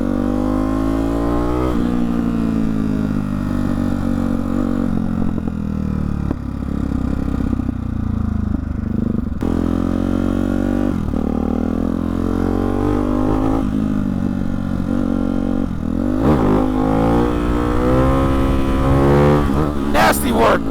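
A car fitted with a Hyper 698 S1 exhaust revs hard and downshifts, a loud, continuous engine roar that rises and falls in pitch through repeated gear changes.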